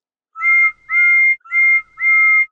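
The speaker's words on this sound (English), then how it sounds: "Whistled Toby" A small steam tram engine gives four bright, clear whistle toots in a quick rhythm, each a sustained harmonic tone with short gaps between, heard alone.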